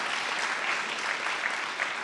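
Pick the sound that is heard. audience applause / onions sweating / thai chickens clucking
audience applause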